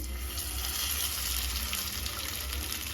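Fish fries in hot coconut oil with a steady, even sizzling hiss that stays close and constant throughout, with no talking.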